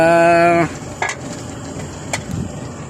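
Vegetables including eggplant and beans stirred and frying in a pan, a loud, steady tonal hum in the first half-second giving way to a soft continuous sizzle with a few sharp utensil scrapes and clinks.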